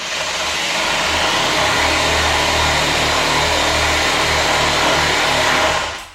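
A rasp sander combo gouging out and flattening paint, giving a loud, steady motor whine with rough grinding texture, continuous for several seconds before cutting off.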